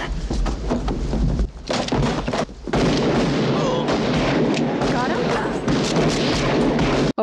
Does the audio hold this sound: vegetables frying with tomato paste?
no